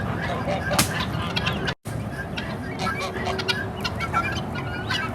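Guinea fowl and other poultry cluck and call while pecking at grass, a busy flock of overlapping bird calls close by with a brief dropout, over steady outdoor noise and background chatter.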